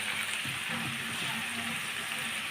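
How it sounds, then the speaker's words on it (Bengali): Vegetables and rice sizzle in a pan for vegetable pulao, a steady soft frying hiss with faint stirring scrapes, no voices. "সবজিগুলো আমি চার পাঁচ মিনিট ভেজে নিয়েছি এখন এর মধ্যে আমি দিয়ে দেবো চাল"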